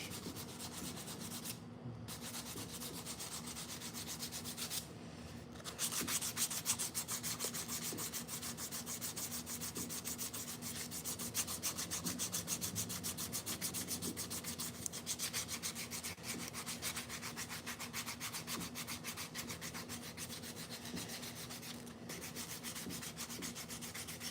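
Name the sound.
hand sanding wood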